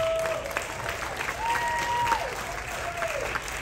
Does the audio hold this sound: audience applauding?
yes